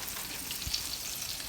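Flour-coated chicken strips fry in hot grease in an iron skillet, a steady close hiss and crackle with no break and no talking.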